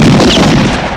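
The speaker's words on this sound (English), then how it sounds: "the stock gunfire sound, typically used in spaghetti westerns" Stock gunfire sound effect from a 1984 action film, the kind long used in spaghetti westerns: a loud, dense burst of shots and booms filling a single second, tapering slightly at the end.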